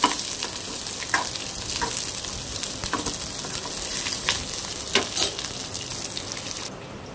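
Peanuts for chutney fry in a pan over medium flame, a continuous close sizzle and crackle with intermittent scraping stirs, no voices.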